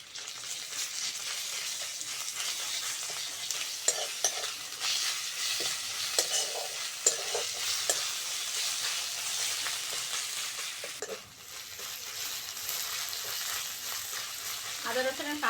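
Ginger garlic paste fries with onions in a pan for a vegetable curry, a steady close sizzle with occasional stirring scrapes running throughout, loudness dipping briefly before the hiss resumes.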